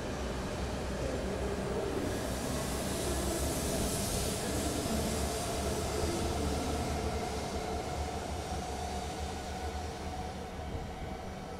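A Tohoku/Yamagata Shinkansen train, an E5 series coupled with an E3 series in a 17-car formation, departing Koriyama station, a steady loud rumbling roar with a rising whine as it pulls away from the platform.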